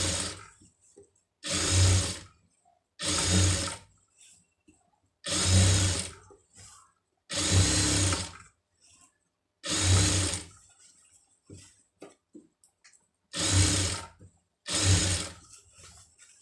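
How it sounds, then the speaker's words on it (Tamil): A sewing machine stitches a folded piece of fabric in short bursts, about eight runs of a second or so each separated by quiet pauses. "இப்போ இதை வந்து அப்படியே மடித்து இந்த இதில் வந்து ஒரு படிமான தையல் போட்டுருங்க இந்த பீஸை வச்சு"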